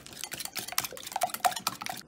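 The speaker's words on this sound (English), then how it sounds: "Go ahead and just stir that in our mixer here." Spoon stirring grated cheese into a sausage and egg mixture in a bowl, a run of light repeated clinks and scrapes against the bowl, close and fairly quiet.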